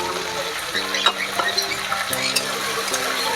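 Ginger-garlic paste sizzles steadily in hot oil in a frying pan while a utensil stirs it, giving a continuous close frying hiss with soft scraping strokes and no voices.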